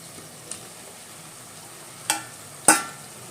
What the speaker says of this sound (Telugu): ఇప్పుడు మనం టమాటోస్ యాడ్ చేసుకుందాం ఫ్రెండ్స్